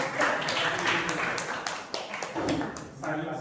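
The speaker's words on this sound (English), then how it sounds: "Big round of applause." Clapping from attendees at the close of a group discussion session, fairly close and dense, running throughout with slight surges and dips and a voice faintly mixed in.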